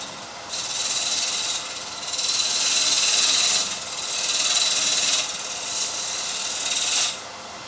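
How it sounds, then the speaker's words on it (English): A shear scraper working the corner of a wooden platter spinning on a lathe gives a bright, hissing scrape in four or five sustained passes of a second or two each, separated by brief lulls, close and fairly loud. "Doing some shear scraping just to get that bit tidy right in the corner."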